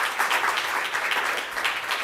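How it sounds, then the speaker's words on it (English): Applause from a crowd at a tobacco control symposium, a dense wash of many hands clapping steadily, moderately loud and continuous. "Applause for them."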